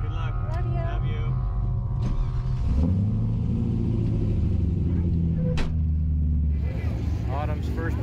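A race car accelerates on its first pass of the day at a raceweek event, a loud rising engine roar with gear-change dips that sweeps through and fades, while people talk and shout nearby.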